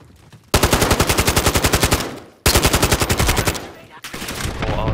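Rapid automatic gunfire in Modern Warfare 2, loud and close, with two long sustained bursts separated by a brief gap, then a shorter, rougher burst near the end.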